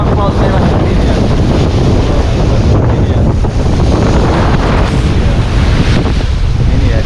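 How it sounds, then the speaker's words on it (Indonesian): Fierce Red Sea waves crash and surge nonstop, very loud and close, with heavy wind roaring across the microphone. "jadi ngeri ya kalau kita melihat keganasan ombak Laut Merah seperti ini ya"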